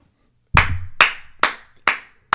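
Five sharp, separate claps from two podcast hosts cheering, each a bright close smack with a short decay, spaced about half a second apart after a quiet start, no talking.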